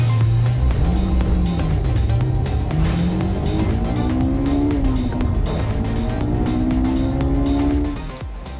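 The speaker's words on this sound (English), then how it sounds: "SQ7 with the 4-liter twin-turbo V8 under the hood, making 500 horsepower." Loud, continuous engine roar from a 2025 Audi SQ7 with its 4-liter twin-turbo V8, rising and falling in pitch as it revs and shifts, with a tire-squeal edge, before easing off near the end.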